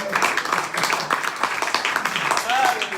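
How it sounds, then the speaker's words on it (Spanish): A church congregation claps together for Jesus Christ during a Spanish-language sermon, a dense, steady patter of hands that fills the room, with cheering voices mixed in. "Dale un aplauso a Jesucristo."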